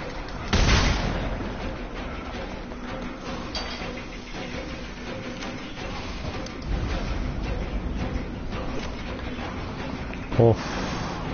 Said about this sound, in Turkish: Yani pompalı tüfekle vuruyorum